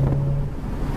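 Modded Honda Civic Si engine running with a steady low hum and faint tonal whine under a little throttle, close and loud, with no voices over it.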